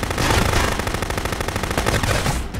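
Rapid, continuous automatic AK rifle fire in the game Contraband Police, loud and dense bursts rattling without pause and stopping abruptly at the end.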